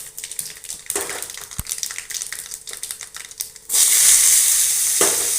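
Onions frying in oil for a drumstick sambar: a crackling sizzle with scattered stirring scrapes, then a sudden loud, steady hiss as the onions hit the hot oil, close by with no talk.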